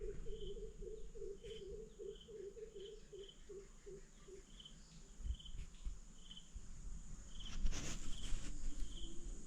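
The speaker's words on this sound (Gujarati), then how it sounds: "કેવો સરસ અવાજ આવે છે પક્ષીઓનો" Repeated bird chirps ring out at a steady pace against a constant insect trill, with a low outdoor rumble growing louder toward the end.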